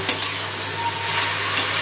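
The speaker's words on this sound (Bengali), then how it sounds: "শাকটা ভাজা ভাজা করে নেবো" Steady sizzling of water spinach greens frying in a pan with salt, turmeric and sugar, with a few light scrapes and taps of stirring near the start and end, no voices.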